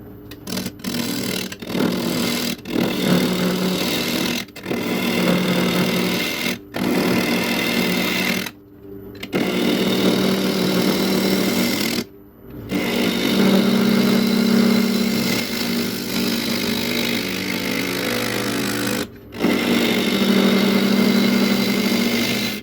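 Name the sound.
wood lathe spinning an old apple wood bowl blank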